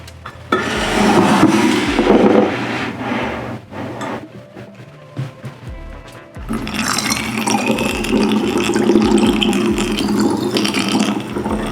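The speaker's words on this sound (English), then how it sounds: "We're gonna go ahead and get ready to put this syrup. Got my little funnel." Homemade toasted coconut syrup is poured through a small funnel into a bottle, giving gurgling, sloshing liquid sounds in uneven bursts, a quieter pause in the middle, then a longer continuous fill with clinks.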